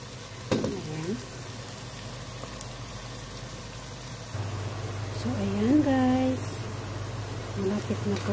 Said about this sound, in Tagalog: Pa-fry lang po natin hanggang sa mag-light brown po siya.